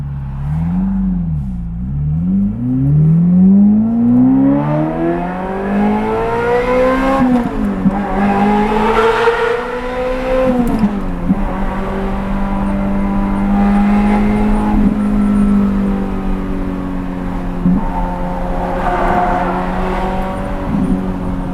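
A Ferrari F355 Berlinetta on a shakedown drive after extensive servicing roars loudly from inside, its engine note climbing and falling through several rev changes and gear shifts before settling into a steady drone.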